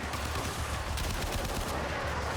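Rapid gunfire shooting enemies in the video game Warframe, a dense, continuous stream of shots at steady loudness with no talking.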